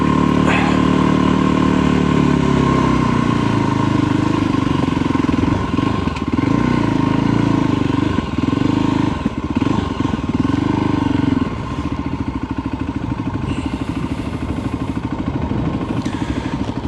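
A Voge 300 Rally motorcycle climbs a loose, shaly mountain track, its engine loud and close with steady droning, shifting revs, and gravel clatter throughout, then settling to a lower pulsing note.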